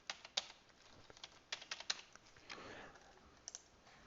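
Computer keyboard typing as a date is entered into a form field, a quick irregular run of soft close key clicks with brief pauses between taps.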